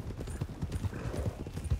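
Horse hooves clip-clopping in the western roleplay game RedM, a steady run of close, moderately loud hoof strikes with faint voices in the background.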